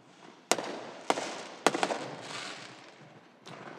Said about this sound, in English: Only in this neighborhood, folks, you get fireworks.